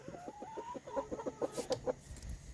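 A backyard homestead chicken clucks close by in a quick series of short, rhythmic notes, fairly quiet with no talking.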